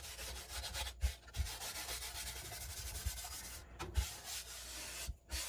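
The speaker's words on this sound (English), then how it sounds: "I'm just going to take a clean dry cloth over it." A clean dry cloth rubs across a dyed flamed maple guitar top on an ES-335 kit body, making a soft, continuous scratchy swish with a few brief pauses between strokes, quiet and close.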